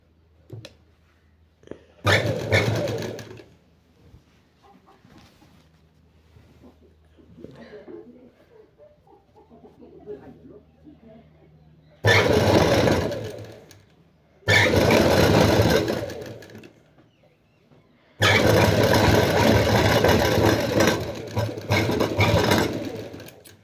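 Sewing machine stitching the round collar of an anarkali frock, several loud bursts of rapid needle chatter separated by quiet pauses with soft handling sounds.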